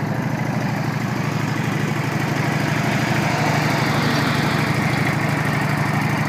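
A stock 2013 Honda Shadow 750 Phantom motorcycle with 8,542 miles runs at a steady idle, a loud, close, continuous engine drone with a fast even pulsing beat throughout and no talk.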